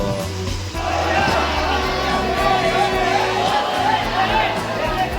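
Dense crowd at Chinchpokli railway station during a Ganpati arrival procession, a steady close hubbub of many voices with overlapping chatter and low rumbling background noise throughout.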